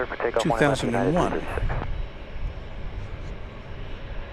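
A jet airliner at DFW Airport roars as a steady broadband rumble; a voice talks over it for the first two seconds, then the engine noise continues alone at moderate level.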